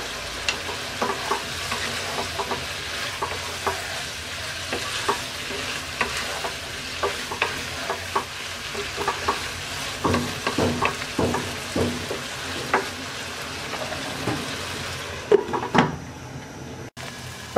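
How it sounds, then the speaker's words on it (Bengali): Prawns, carrot and broccoli frying in a pan over medium-low heat, stirred with a spatula after lifting the lid; steady sizzling under repeated scraping and knocking strokes, close and moderately loud, no talking. "ঢাকনা খুলে আমরা একটু নেড়ে দিচ্ছি।"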